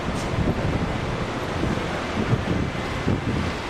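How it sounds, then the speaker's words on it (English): Strong wind buffets the microphone in a constant rushing roar, with gusty swells and no other clear sounds. "it's mad windy"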